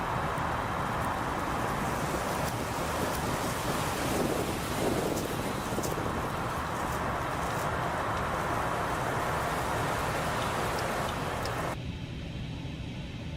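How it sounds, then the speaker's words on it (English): Stormy wind roars steadily during a storm with a strong crosswind in Microsoft Flight Simulator, around an Airbus A350 at Manchester airport, a broad continuous rushing noise that drops off abruptly near the end. "Oh no, there's a storm."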